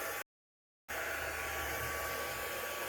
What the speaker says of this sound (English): You can get your heat tool